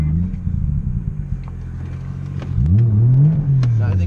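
A car stuck on its frame at Ebisu Circuit revs its engine while trying to pull forward, the idle clattering under brief talk before a loud rising rev that holds and then falls away.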